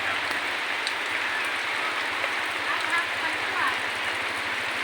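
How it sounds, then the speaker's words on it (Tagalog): Heavy rain pours steadily in a thick, unbroken roar onto a house, with a low rhythmic thrumming underneath; a voice can be heard faintly beneath it. "Yes, kalakas ng ulan."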